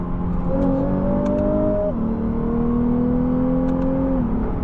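A low-mileage 2020 Lexus RC 350 F Sport accelerates hard from inside the cabin, its engine note rising through two long sweeping pulls with a shift between them, loud and steady throughout.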